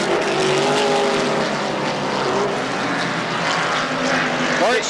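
IMSA Kelly American Challenge race cars at Pocono in 1981, a loud steady engine roar with whining tones sweeping past, continuous throughout under a commentator's voice.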